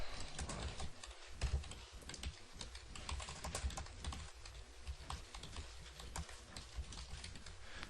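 Quiet, rapid typing on a computer keyboard: a continuous patter of small clicking keystrokes, close but faint, with no other sounds.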